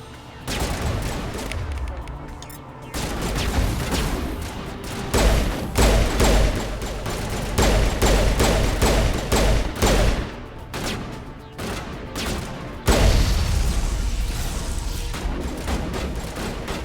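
Gunfire in the video game Mass Effect 1 comes as dense volleys of rapid shots and heavy thumps, loud and near, with brief lulls between bursts.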